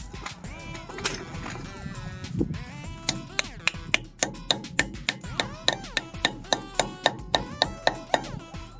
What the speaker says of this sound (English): I'm going to tap it on with our tappy tool really quick.